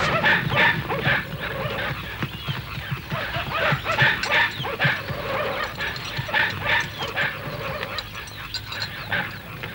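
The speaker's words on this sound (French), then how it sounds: "ça n'était que les chiens du village" Village dogs bark repeatedly in short, yipping bursts with some whimpering, fairly close and busy, layered over a dull background murmur.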